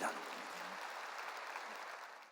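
Congregation applauding during a sermon at a Korean church, a faint, steady wash of many hands clapping that holds evenly for a couple of seconds.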